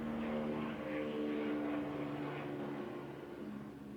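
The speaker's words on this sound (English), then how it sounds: "So sometimes there are helicopters." Helicopter flying over a Boston neighborhood, a steady low droning rotor and engine hum that is fairly distant and holds evenly for several seconds.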